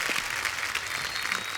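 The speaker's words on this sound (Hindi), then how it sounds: "एक बार राजकुमार और नुसरत के लिए जोरदार तालियां" Studio audience on an Indian TV comedy show clapping loudly, a dense continuous patter of applause close and sustained throughout the short burst.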